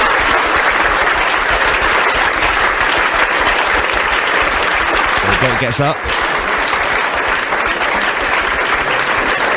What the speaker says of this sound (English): Loads of applause.